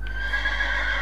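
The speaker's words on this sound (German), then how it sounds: "Oh, Pferde." A horse in the Minecraft video game gives a short neigh, with a brief high whinny standing out over a low steady hum.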